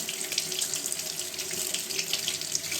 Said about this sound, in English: You just rinse it really well in your running water.